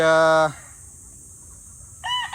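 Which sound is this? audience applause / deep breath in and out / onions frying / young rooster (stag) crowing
young rooster (stag) crowing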